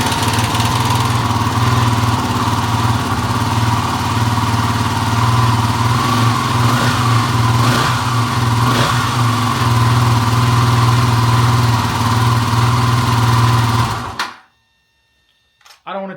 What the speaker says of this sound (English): start up the bike just so that you guys can hear the noise it's making